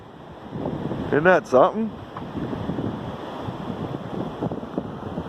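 North Dakota blizzard wind drives snow through trees in a steady, loud rushing roar with buffeting on the microphone, while someone speaks briefly over it outdoors.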